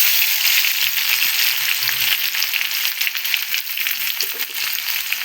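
Mustard seeds and crushed garlic fry steadily in hot oil for a gumbo of Telugu gongura chana dal curry, a dense continuous sizzle with scattered crackles and pops, loud and close throughout with no talking.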